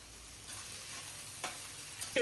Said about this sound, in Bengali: পেঁয়াজ আর কাঁচামরিচ ভাজা হয়ে গেছে, দিয়ে দিবে কাঁকরোল।